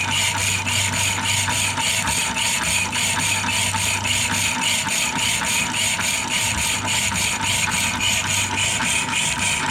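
A 1940s Jefferson 601 power hacksaw cuts through greased bar stock, its blade strokes scraping in a steady repeating rhythm over a constant mechanical hum.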